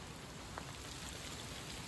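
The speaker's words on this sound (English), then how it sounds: "It's now starting to pour hard with rain." Heavy rain pours steadily under a tree canopy during a November walk, a constant faint hiss of drops with no voices.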